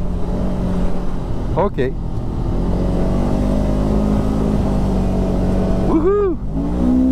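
A Segway Fugleman UT10 utility vehicle on a speed run, its engine droning loud and steady throughout with constant road and wind roar, while a person speaks briefly over it.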